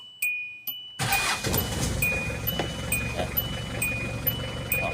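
A Hyundai Starex van engine cranks and catches, then settles into a steady, close idle rumble, with a few faint ticks just before the start.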